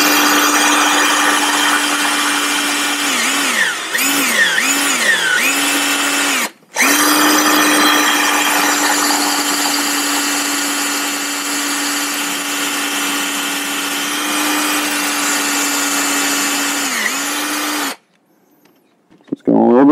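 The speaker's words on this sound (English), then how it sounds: "And this material right here, just like this resin fiberglass, will tear up your drill bits." A power drill whines steadily as it bores into a resin fiberglass surfboard, loud and close, with short pauses and pitch dips where the bit bites, a brief stop midway and silence at the end.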